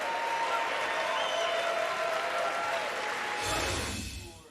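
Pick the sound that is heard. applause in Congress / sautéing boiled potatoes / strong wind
applause in Congress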